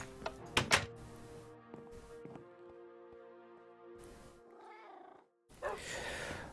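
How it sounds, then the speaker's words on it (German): Cats meow in Minecraft with the Industrial Craft 2 mod, several short cries standing out over faint game tones and clicks, with a louder burst at the end and no talk. "Ach nein, jetzt geht das mit den Katzen schon wieder los."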